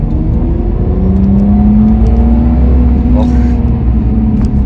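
A Peugeot 106 rally car with a TU1M+ engine revs up steadily, its note climbing smoothly in one long pull and holding loud and close throughout, with someone talking over it.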